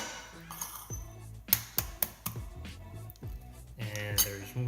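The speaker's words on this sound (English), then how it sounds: "we got 3 eggs, and we're just gonna crack them down" Three eggs being cracked against a bowl for a beef and egg omelette, heard as a few sharp clicks and taps close by over steady background music.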